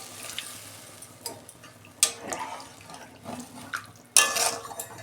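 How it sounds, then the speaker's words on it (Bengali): Water is poured into fried spices in a pan for Bengali-style dal, giving a close sizzle and splashing bursts with clinks of a utensil between them. "ওই যে মশলাটা কষানো হয়ে গেছে, আমি জল দিচ্ছি, পরিমাণ মতো জল দেবো।"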